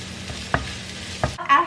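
Onions sauté with golden brown garlic for spicy chicken adobo, a continuous sizzle with two sharp spoon knocks against the pan, then a brief louder scrape and hiss at the end.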